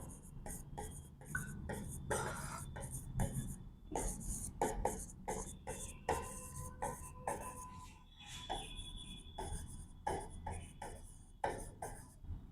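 Chalk or marker strokes on a classroom board during a physics lecture on charging a glass rod with silk cloth, irregular scratchy bursts and taps continuing for several seconds with faint background noise.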